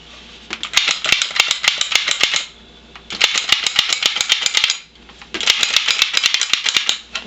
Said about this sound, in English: this whole thing ratchets down as you squeeze it out into your trays